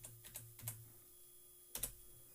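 A computer keyboard is typed on to enter a web address, with a few quick key clicks at the start and a short double click near the end, light and close, with quiet gaps between.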